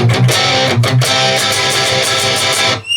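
Gritty distorted electric guitar strums a steady down-up rhythm, loud and sustained, ending in a brief fade.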